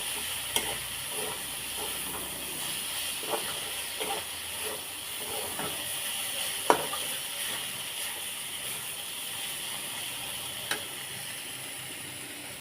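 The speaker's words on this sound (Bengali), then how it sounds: "আমার ভেজে রাখা চিংড়ি মাছগুলো আমি এই শাকের মধ্যে দিয়ে দিব, দিয়ে ভালো করে নেড়ে আর একটু ভাজবো" Shrimp and dhenki greens stirring and frying in a pan, a steady close hiss of sizzling oil with occasional scrapes and clicks from the spatula, no talking.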